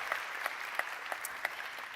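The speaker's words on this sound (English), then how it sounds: "Let's give them a round of applause." Steady applause from an audience at a science week session, fairly faint, with a few sharper individual claps standing out, no talking.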